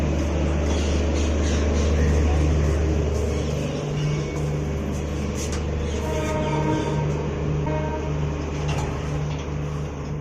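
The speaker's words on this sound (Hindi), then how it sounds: "तो गाइस अभी मैं आ चुका हूँ अहमदाबाद रेलवे स्टेशन पर।" Busy ambience at Ahmedabad railway station: a steady dense wash of crowd murmur and traffic-like rumble with a low engine hum that shifts partway through, continuous and moderately loud throughout.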